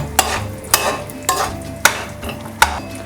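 Cashew nuts fry in a pan until golden for carrot halwa, with five sharp scraping stirs of a spoon at a regular pace over a soft, steady sizzle.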